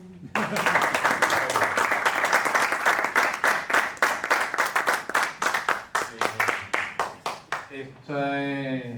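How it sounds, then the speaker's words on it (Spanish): Loud, sustained applause from a crowd, dense clapping that thins into scattered claps before a voice begins speaking at the end. "Un aplauso."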